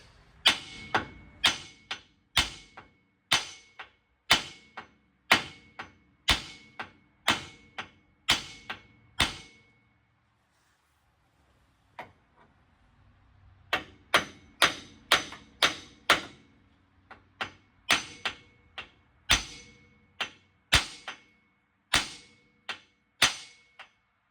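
A plain house hammer pounds a tie rod on a Polaris RZR Pro R side-by-side, about two dozen sharp metallic blows in a steady rhythm, close and loud, with a short pause partway before the strikes resume.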